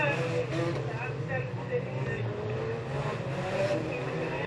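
Front-wheel-drive Nissan Primera racing down the back straight at Standlake during a Heat 2 classics race, engines droning steadily and loud throughout with a commentator speaking over the top.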